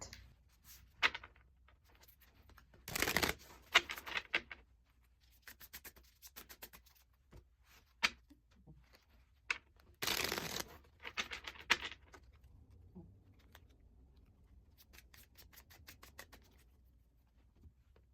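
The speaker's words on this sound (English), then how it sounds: "I'll get them shuffled up so we can get into that." Quiet riffling and soft slaps of tarot cards being shuffled come in short bursts with pauses between, close by in a still room.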